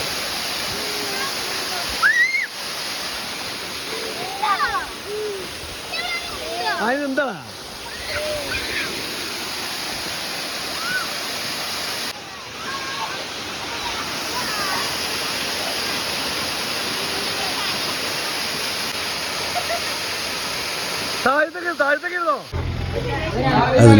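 A waterfall at Kalvari Mount roars as a constant, dense rush of falling water that fills the whole scene, while people talk and call out over it.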